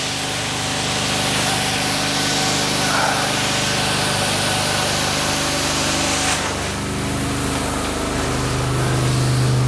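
A truck-mounted carpet cleaning machine with a 2-inch wand roars steadily in a house in North Dakota, a loud continuous hissing suction that shifts in tone partway through.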